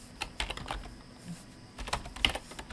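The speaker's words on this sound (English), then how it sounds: "I'm gonna type my equations here." Steady typing on a computer keyboard while entering equations in MATLAB: clusters of quick, close key clicks with short pauses, clear and alone with no voices.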